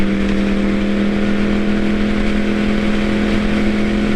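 A 2012 Yamaha R1 motorcycle engine roars loud and close in a continuous steady drone with a strong tonal whine, sustained without breaks or talk.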